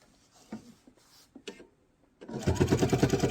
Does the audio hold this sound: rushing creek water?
no